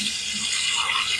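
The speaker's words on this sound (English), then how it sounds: "Let me just rinse my hands." Running tap water splashes over hands being rinsed at a sink after shaving, a soft steady hiss and patter close by with no talk.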